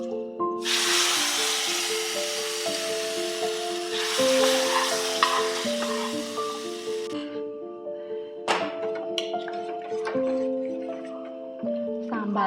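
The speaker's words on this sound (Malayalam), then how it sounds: "സാമ്പാറൊന്ന് കടുക് വറുക്കാം കേട്ടോ" Mustard seeds sizzle in hot oil for sambar with a bright, crackling hiss that swells strongly for several seconds and then fades into scattered pops, while tonal music plays underneath throughout.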